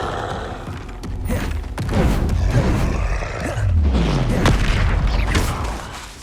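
Fiery Confringo blasting spells from Hogwarts Legacy burst repeatedly in loud, deep booms, layered with rumbling and creaking game effects throughout.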